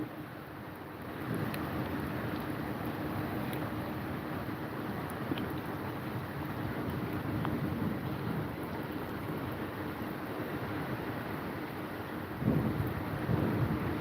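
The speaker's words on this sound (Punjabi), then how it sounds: "ਅੱਜ ਵਾਲਾ ਤਾਂ ਮੀਂਹ ਬਹੁਤ ਵਧੀਆ" Monsoon rain falling outdoors near fields and a canal in a rural area, a steady, even broadband hiss that holds throughout, moderately loud with a slight swell near the end.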